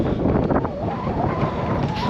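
Wind gusts across a microphone on a mountain pass, a steady low rumbling roar that stays loud for the whole moment, with no speech.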